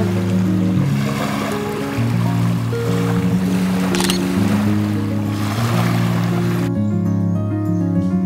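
A small boat runs on the sea off a beach at Naka Island near Phuket, heading toward mangroves. Its motor hums loud and close with shifting pitch over splashing water, and no one speaks.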